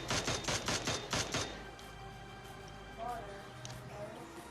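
Rapid bursts of gunfire from a battle royale video game, using Mini14 and DP-28 rifles, fire in a quick rhythmic volley for about a second and a half, then fade into quieter game ambience.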